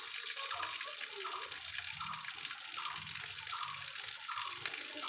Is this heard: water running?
yes